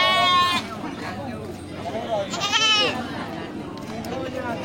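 A female goat and others at a livestock sale bleat in clear, wavering cries, one near the start and another louder call midway, over a murmur of people chatting nearby.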